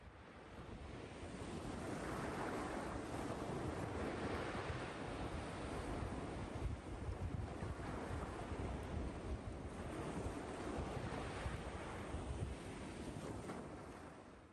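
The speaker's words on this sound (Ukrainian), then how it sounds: "Це мелодія повітря і моря, звук води, шум вітру шум моря." Continuous rushing surf with wind buffeting the microphone, a steady broad roar of waves rolling in throughout.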